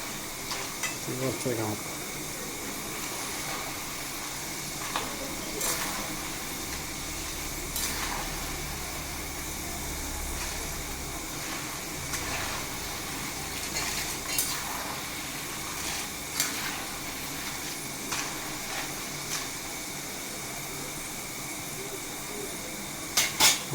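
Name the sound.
stirring jackfruit chips frying in oil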